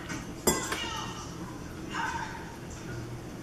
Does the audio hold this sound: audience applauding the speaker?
no